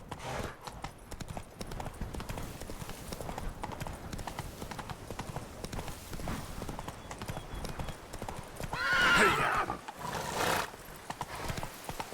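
Roach, the horse in The Witcher 3: Blood and Wine, gallops with steady clip-clopping hooves and lets out a loud whinny near the end, set against ambient game sound.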